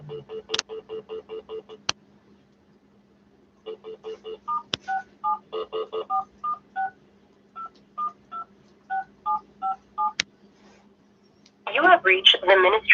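Touch-tone telephone dialing tones ring out in quick bursts of beeps while a call goes through to a ministry office, with clicks between groups and a burst of rustling at the end.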